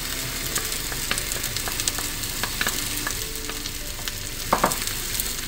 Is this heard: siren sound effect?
no